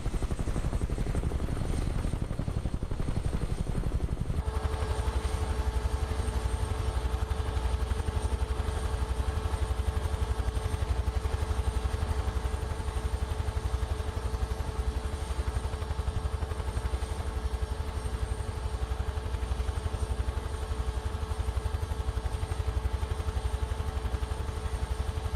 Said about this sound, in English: Trim is definitely working on this helicopter.